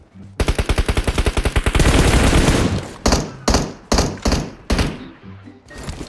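PUBG Mobile gunfire, loud and close: a rapid automatic burst runs into a dense stretch of sustained firing, then several separate heavy shots follow at about half-second intervals.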